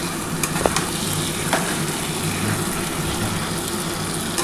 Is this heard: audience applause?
no